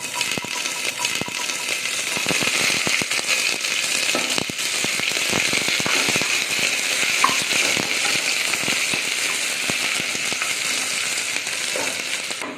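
Loud, continuous sizzling of chopped onions frying in hot oil for goat leg gravy, crackling and popping close up with no talk.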